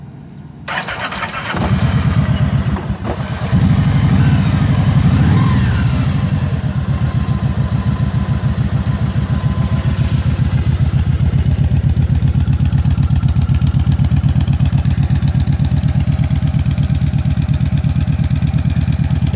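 A Kawasaki Vulcan Voyager motorcycle engine cranks briefly, catches, and settles into a loud, steady idle close by, its even rhythmic throb running for the rest of the clip without talk.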